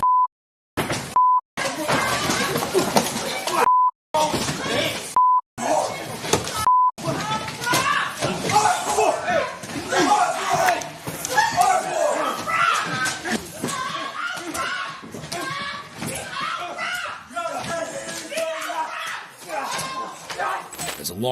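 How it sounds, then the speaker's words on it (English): Beeping from an alarm goes off in a courtroom during a courthouse attack on a judge, short tones repeating at the start, then buried under loud commotion, voices and clattering. "As alarms went off in the courtroom"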